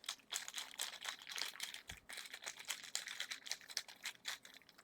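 Cardboard monster tokens are shuffled inside a cloth bag for the Eldritch Horror board game, giving a quiet, continuous rustling and clicking close by with no voices.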